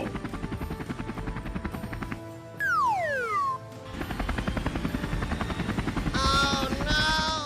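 Cartoon helicopter flying, a rapid rhythmic chopping of rotor blades that stays loud throughout, broken by a brief falling whistle and later some rising and falling cartoon tones, with no talking.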